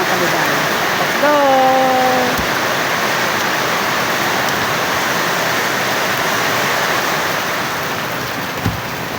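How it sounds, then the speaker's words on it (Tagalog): Rain falls outside a house as a steady, even hiss of broadband patter, fairly close and constant throughout, with a person's voice briefly heard near the start. "Akala mo kasi malakas ang ulan dun sa loob ng bahay pero ganito lang mga kabiday."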